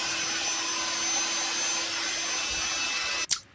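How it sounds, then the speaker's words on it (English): A belt sander sands the edges of cut wooden pieces for a stool with a steady, close, continuous roar. It shuts off with a sharp clunk just before the end. "I'm just going to sand the edges down like so, as you can see here, with my belt sander"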